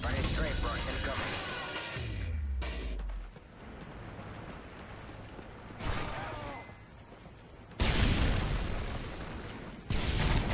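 Airstrike explosions from a strafe run in the Modern Warfare 3 video game, with several loud booms and crashing bursts spread across the clip under dense game noise and radio-style voice callouts.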